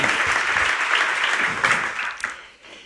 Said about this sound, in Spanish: Vamos a aplaudirle.